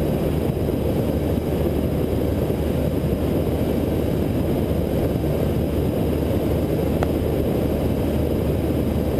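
A small general aviation propeller plane rotates on takeoff, heard from inside the cabin as a loud, constant droning engine and prop roar with no talk.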